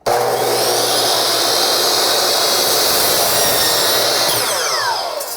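Power saw cutting through a PVC window trim board: a loud, steady, high-pitched whine that holds for about five seconds before spinning down, close and alone.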